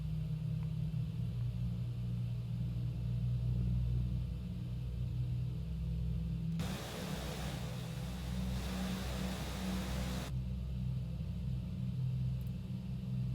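The piston engines of a Douglas DC-6 run at full takeoff power in a flight simulator. They make a steady low, droning rumble throughout, with a brighter broadband roar swelling for a few seconds midway.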